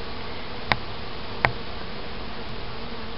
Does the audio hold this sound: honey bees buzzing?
yes